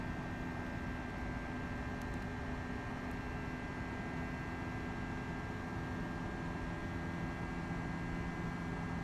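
An Airbus A321 taking off in the Prepar3D flight simulator gives a steady, dense engine roar with a constant hum. It stays even and loud from start to finish, with no voices.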